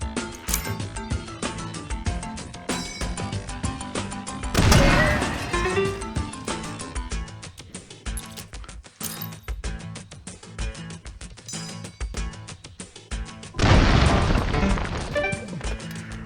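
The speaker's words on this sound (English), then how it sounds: "I don't think I showed this grenade off." Grenade explosions in the VR shooter game H3VR, two loud booming blasts several seconds apart over dense clattering impacts and crashing debris.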